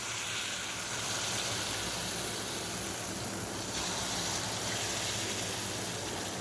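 Banana pitha made with rice flour and whole banana frying in hot oil, a steady bright sizzle and hiss that runs evenly throughout with no talking.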